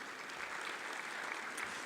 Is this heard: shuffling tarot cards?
no